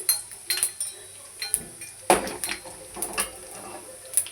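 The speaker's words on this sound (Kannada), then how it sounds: "ಇವಾಗ ಎಣ್ಣೆ ಕಾದಿದೆ ಇದಕ್ಕೆ ಜೀರಿಗೆ ಮತ್ತು ಸಾಸಿವೆ ಹಾಕ್ತಾಯಿದ್ದೀನಿ" Cumin and mustard seeds frying in hot oil in a pan for radish chitranna, with a soft background sizzle broken by scattered clinks and scrapes of a utensil against metal, close and moderately loud, no talking.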